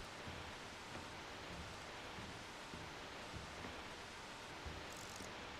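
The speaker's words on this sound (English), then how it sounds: "It only shows white noise." Steady hiss of static white noise from a screen in the video game Deep Sleep: Labyrinth of the Forsaken, a constant broadband wash that stays even and unbroken throughout.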